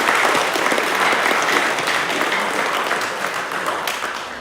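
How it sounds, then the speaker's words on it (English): An audience at a school leadership speech event gives a sustained round of applause, dense steady clapping filling the room before slowly tapering off. "If you could give them all just one big round of applause."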